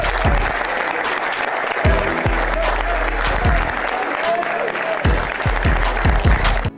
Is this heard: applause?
yes